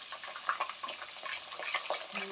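Curry leaves fry in oil over a low flame for homemade hair oil, a steady close crackling sizzle with small popping bursts and faint stirring, no voices.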